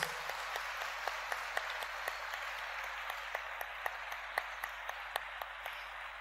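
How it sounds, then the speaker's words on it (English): Audience at a Glasgow Oneness samagam gathering applauds softly and at a distance, scattered sharp claps standing out over a steady hiss of clapping for several seconds. "Please do give a round of applause."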